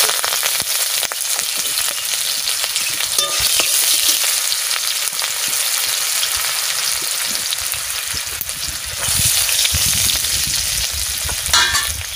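Onion, cumin seeds and bay leaf fry in hot oil in a kadai, sending up a loud, steady crackling sizzle with occasional stirring scrapes.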